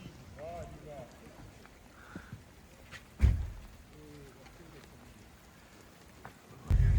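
Rain falls steadily outdoors in Europe, a soft continuous patter with a few faint bird calls and occasional louder thumps and bursts of wind.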